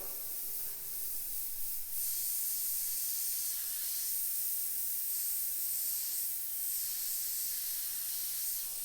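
An airbrush that is not working at full performance sprays paint onto a skull through templates, giving a steady, close, unbroken airy hiss for the whole stretch.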